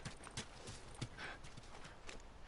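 Horse hooves clip-clop in steady repeated steps in The Last of Us, with a brief whinny, close and moderately loud over a busy game background.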